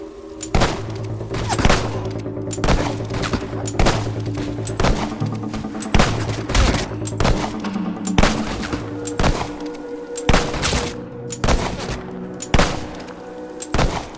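Gunfire from Fable II game combat: repeated sharp shots in quick bursts across the whole stretch, moderately loud over a low steady game soundtrack, with no talking.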